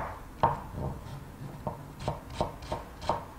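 A knife cuts radish into thin matchstick strips on a cutting board, with a run of about eight sharp, quiet taps spaced unevenly at first, then falling into a steady rhythm.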